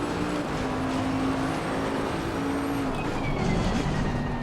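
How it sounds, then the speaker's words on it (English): A Bentley race car's engine in Assetto Corsa Competizione at Zolder revs and drones at moderate volume, with pitch rising and falling under throttle changes. "I just like the sound of the Bentley engine revving."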